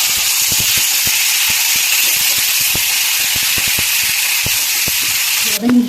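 Grapes and green chillies fry with onions and asafoetida in hot oil for a grape pickle, giving a steady, loud, close sizzling hiss dotted with small ticks and pops, with a brief clatter near the end.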